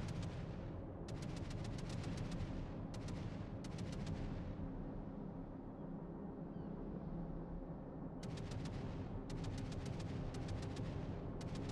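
Naval guns fire in World of Warships as a continuous, heavy rumble of booming shots and low roar, fairly faint overall, with crackling bursts coming and going over a steady bed of noise.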